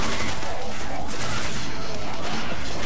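Constant dense gunfire and explosive combat noise from the Devil May Cry 4 video game, loud and unbroken throughout, a chaotic wall of shots and crashes.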